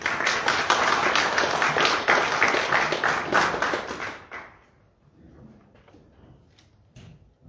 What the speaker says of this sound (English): Let's give Galina a round of applause